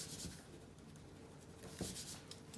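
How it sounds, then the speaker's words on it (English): A pencil draws a tree trunk on paper in faint, scratchy strokes that come in short, quiet bursts close to the listener. "Now we're going to rub a little bit out so we can draw a trunk."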